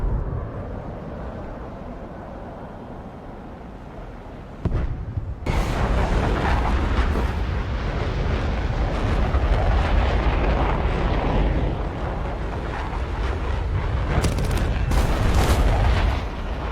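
R-60 missiles launch and explode in an air combat video game flown in an SU-17. Loud, rumbling blasts and roaring bursts arrive in a dense, continuous barrage, with a sharp break partway through and heavy hits near the end.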